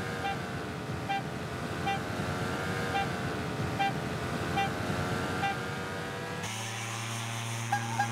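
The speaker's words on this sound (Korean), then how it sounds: "비행 중에는 소음이 크기 때문에 나팔을 함께 사용한다." A horn is blown to call geese in flight over the loud, steady drone of an aircraft engine, with short repeated toots through the drone and a shift to stronger, brassier tones near the end.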